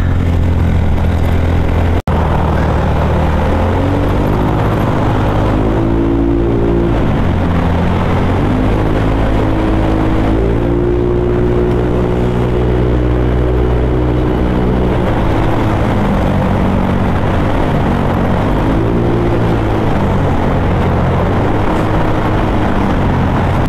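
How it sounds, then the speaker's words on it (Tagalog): Motorcycle tires roll on the road inside a tunnel at night in Metro Manila: a loud, continuous road rumble fills the enclosed space, with a deep droning hum shifting slowly in pitch as it rolls along steadily. "Sarap sa tenga yung pag nasa tunnel ka, tapos yung tunog ng gulong na lumalapat sa kalsada."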